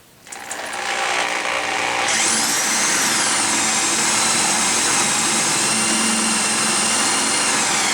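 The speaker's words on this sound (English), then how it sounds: "lubricate, and then drill out the rivet head" A power drill with a 7/16-inch bit bores out the rivet head on a C3 Corvette Stingray brake rotor, a loud, steady close-up whine with grinding that rises in pitch once the bit bites.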